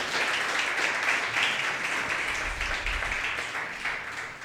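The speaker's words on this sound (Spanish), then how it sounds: "Dale ese aplauso al Rey." A church congregation claps for several seconds during a Spanish-language sermon, a dense, steady wash of applause that slowly fades slightly.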